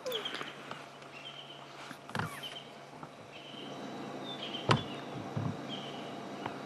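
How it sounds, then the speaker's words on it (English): Birdsong at sunrise on a safari drive: several distant birds give scattered whistles and short calls over a quiet open background, with occasional knocks and rustles nearby and no talking. "Much more birdsong this morning than I've heard for the last little while."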